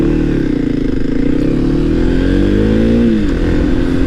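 Kawasaki KLX300 motorcycle with stock exhaust, its engine revving steadily up and down close by, a fairly quiet, muffled drone with rising and falling pitch sweeps throughout.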